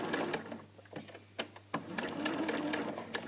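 A home sewing machine stitches a fabric heart in close, steady mechanical whirring, with brief sharp clicks and pauses as the stitching stops and restarts.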